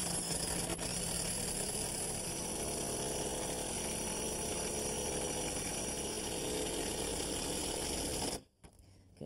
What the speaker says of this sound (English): Now when I screw this in with the impact wrench, I'm going to screw it into the sill of the building.